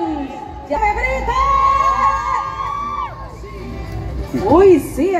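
A crowd at a Fiestas Patrias pageant cheers and shouts loudly and continuously, with high children's and women's yells and whoops rising and falling and a final louder burst of screams.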